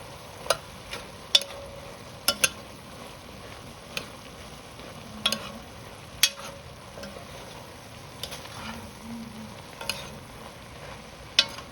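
Garlic sizzling in a pot for sausage and potato soup, a soft steady fry under sharp clinks and scrapes of a utensil stirring against the metal, irregular knocks recurring every second or so, close and moderately quiet.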